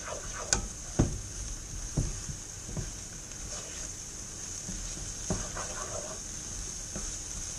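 Onions being stirred and mixed into beef curry in a pot, with a few soft scraping knocks of the spoon over a steady low sizzle and hiss.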